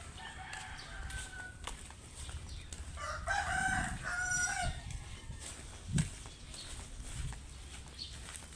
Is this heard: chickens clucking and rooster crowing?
yes